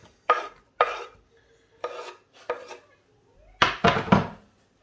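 Onion softening in a pan and stirred with a wooden spatula: a series of distinct scraping strokes, sparse at first, then a quick cluster of three near the end, close and fairly loud with no talk.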